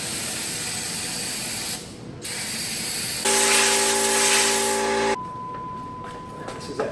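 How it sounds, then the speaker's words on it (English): Aerosol cleaner sprayed onto a VW engine camshaft in a workshop, bursts of loud close hissing spray separated by pauses, with a faint tonal hum during one burst. "Let's clean our cam up."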